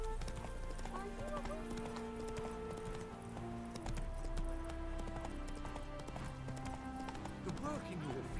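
Horse hooves trot in a steady clip-clop rhythm from The Witcher 3's Hearts of Stone expansion, close and continuous over layered game music, with occasional speech.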